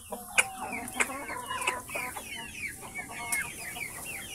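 Rhode Island breeder hens in a backyard flock cluck in a steady series of short calls, one hen laying an egg, with several sharper squawks standing out against a constant low hiss of background noise.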